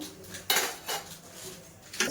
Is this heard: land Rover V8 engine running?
no